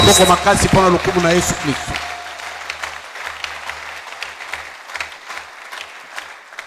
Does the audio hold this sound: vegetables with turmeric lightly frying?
no